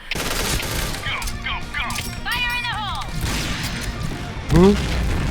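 Gunfire and explosions from the online shooter Point Blank, with an HK416 rifle, rattle as dense bursts throughout while a voice talks over the action and a sharp tonal blip stands out near the end.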